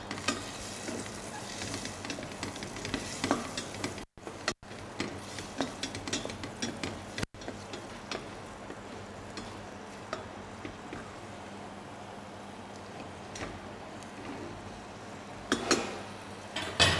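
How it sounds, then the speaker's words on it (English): Carrots frying in a pan for a Chinese rice dish, a steady close sizzle running throughout with a few sharp clinks of a utensil stirring against the pan and brief dropouts, no voices. "I'm gonna cook my carrots like 3 minutes until tender."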